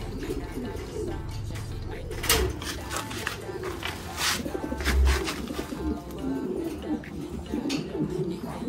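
White flight pigeons coo repeatedly in a loft, soft throaty calls overlapping at close range with light rustling and chirps in the background.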